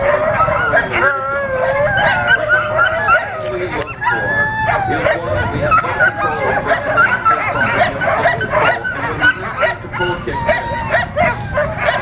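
Sled dogs at an Alaska kennel bark, yip, whimper and howl continuously in a noisy chorus, several animals close by and overlapping throughout.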